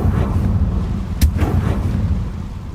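A blasting spell explosion in the video game Hogwarts Legacy, one sharp burst rising out of a steady deep rumble, loud and close.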